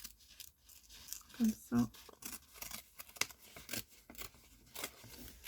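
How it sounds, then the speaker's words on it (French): Paper card torn by hand at one corner, a few short ripping and crinkling bursts close by, with a voice speaking briefly over them. "Je vais déchirer un angle."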